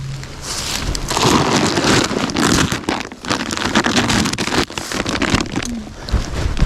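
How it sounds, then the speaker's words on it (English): Light rain falling steadily outdoors at a deer hunting site, a dense continuous patter and hiss with occasional louder crackles and knocks close by, no talking. "It's starting to rain a little bit."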